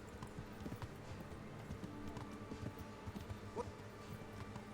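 A horse's hooves clip-clop steadily at a walking pace in Kingdom Come: Deliverance, close and even under a busy background din.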